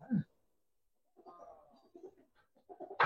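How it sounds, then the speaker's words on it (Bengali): Chashma pigeons, a Bengali fancy breed kept among Giribaz and coloured pigeons, give a few soft coos and murmurs close by, with short pauses between the calls. "এটা হচ্ছে চশমা কবুতর"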